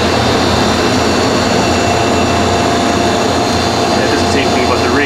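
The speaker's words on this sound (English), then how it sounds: "It starts up very quickly. Let's see the compressor." A Thomas A. Edison central air conditioner compressor runs with a loud, steady broadband roar and low hum, heard up close and unchanging throughout.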